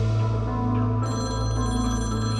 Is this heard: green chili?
no